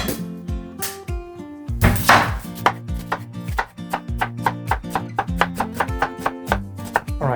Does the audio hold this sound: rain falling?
no